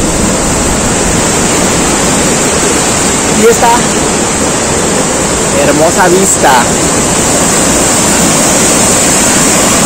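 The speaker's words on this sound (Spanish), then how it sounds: "el río que suena potente" Powerful river rushing below the Pextlan bridge in Xico, Veracruz, a loud, unbroken roar of water filling the scene while a person speaks briefly over it.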